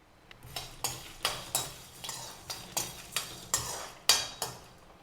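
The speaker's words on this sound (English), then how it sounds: "I am adding groundnuts, so let's just dry roast this." Groundnuts, coriander, chili and cinnamon are dry roasted in a pan, a utensil scraping and clinking through them in about ten regular, close stirring strokes, with no voices.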